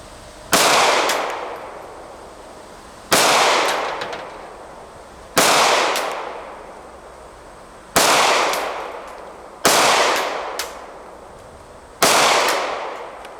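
Six loud shots ring out from an S&W M&P 2.0 Compact pistol fired at 5 yards on an outdoor range, each a sharp crack with a short decaying echo, spaced roughly two seconds apart.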